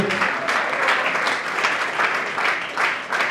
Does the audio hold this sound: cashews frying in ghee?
no